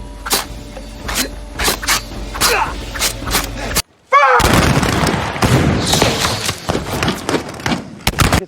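Gunfire during a shooting-practice scene in a film, with sharp repeated shots over background noise, a short silent break, then a louder burst of blasts and clatter with voices in the mix.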